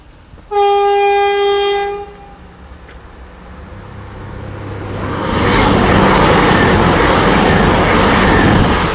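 A loud two-tone train horn blares for about a second and a half, then an East Midlands passenger train approaches a level crossing and rumbles past with a rising, steady roar.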